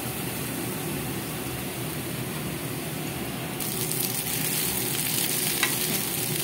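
Fish frying in a pan of hot oil, a steady close sizzle that grows louder and brighter partway through, with no talk.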